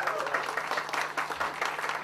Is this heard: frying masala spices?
no